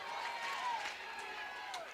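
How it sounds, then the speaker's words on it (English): Crowd at a college softball game, Alabama vs. Tennessee, cheering and yelling loudly in a steady, sustained din, with voices mixed into the noise. "This is the loudest the crowd's been all weekend"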